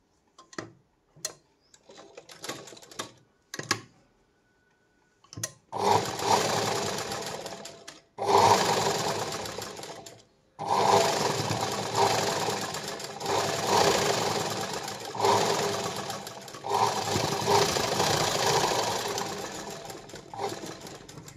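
A sewing machine stitches a cross strip onto a silk blouse: a few short stop-start bursts at first, then long continuous runs of rapid, close mechanical whirring and ticking broken by brief pauses.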